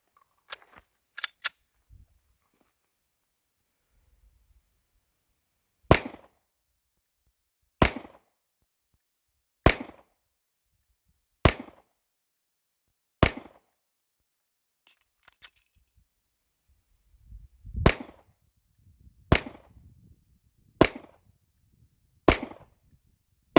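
Pistol shots crack at an outdoor shooting range: a few quick early pops, then nine sharp, loud reports spaced about two seconds apart, alone without speech.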